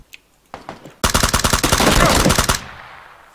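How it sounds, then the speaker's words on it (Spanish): Gunfire in the video game PUBG: a few scattered single shots, then a loud, rapid automatic burst of about a dozen and a half close rounds that stops abruptly, leaving a fading tail. "Guarda que dispararon de abajo."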